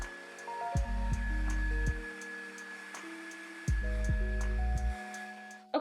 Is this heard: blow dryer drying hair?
yes